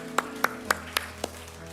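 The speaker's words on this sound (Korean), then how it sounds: "함께 하신 주님께 영광의 박수 올려드립니다." Five sharp, evenly spaced claps ring out alone at moderate level, an isolated rhythmic clapping from a church congregation during a Sunday worship service.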